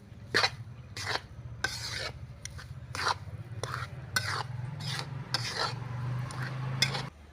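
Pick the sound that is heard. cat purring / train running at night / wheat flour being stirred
wheat flour being stirred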